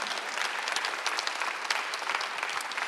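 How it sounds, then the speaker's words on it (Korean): A church congregation at a Sunday worship service applauds, a steady dense patter of many hands clapping at moderate distance, with no voices over it. "박수 한번 드리시기 바랍니다"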